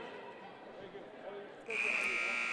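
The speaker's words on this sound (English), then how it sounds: "There's your buzzer." A loud, steady electronic buzzer sounds abruptly and holds to end the first half of a men's college soccer game, cutting in over crowd noise and an announcer's voice.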